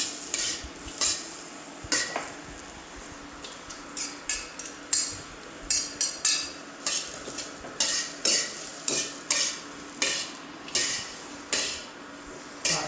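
Chunky carrots stir-fried in a wok on an induction burner, sharp metal utensil scrapes and clacks against the wok in a regular rhythm over a low, steady sizzle, close and loud.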